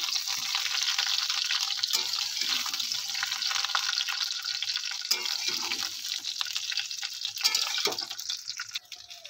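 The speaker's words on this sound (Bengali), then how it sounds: "এবার খুন্তি দিয়ে একটু নাড়াচাড়া করে দিচ্ছি" Raw mango pieces stirred with a spatula in a pan for pickle, a continuous wet sizzling hiss with a few scraping strokes, close and steady, no talk.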